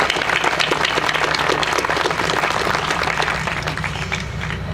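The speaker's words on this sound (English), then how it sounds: "Please recognize Mr. Holden and his wife Edna Mae with a round of applause" An audience at a ranger statue dedication ceremony in Enid gives sustained, dense applause, loud and even throughout with no voices over it.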